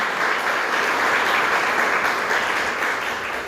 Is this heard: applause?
yes